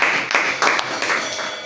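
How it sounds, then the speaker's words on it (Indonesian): A church congregation at a Sunday service in Grand Wisata claps together in a brief, fairly loud burst, with bunched clapping that swells and eases in rough pulses for under two seconds. "Beri tepuk tangan untuk Devan."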